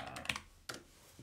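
A PIN is entered on a computer keyboard in a few crisp, separate keystrokes, close and fairly quiet, spaced unevenly with short pauses in between.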